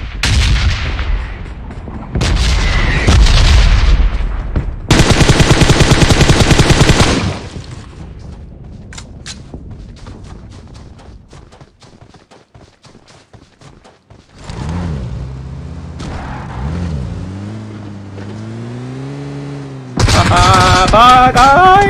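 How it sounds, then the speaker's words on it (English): Red zone bombardment in PUBG Mobile, a mobile battle royale game: loud bursts of booming explosions and gunfire-like blasts, several heavy bursts at the start and end, with a quieter stretch of rumbling and shifting game sounds between. "red zone sound very, very big"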